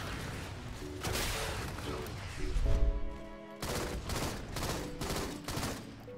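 Rapid bursts of automatic gunfire and explosions fill a Halo: MCC match, loud and dense, with a low boom midway and brief electronic tones before the shooting resumes.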